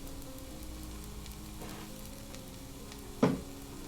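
Peppers and onions sizzle steadily in a hot pan, a soft continuous frying hiss throughout with one brief louder clatter near the end.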